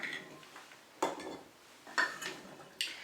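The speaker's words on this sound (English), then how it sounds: "Just keep scooping them into the jar." Cooked bakeapple berries are scooped into a glass jar in a kitchen, with three distinct clinks of a spoon against glass spaced about a second apart over soft background noise.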